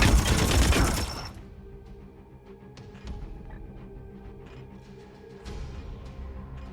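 Scattered bursts of gunfire from a Warhammer 40K strategy video game follow a loud opening blast, with sharp shots popping at irregular intervals over a low rumble.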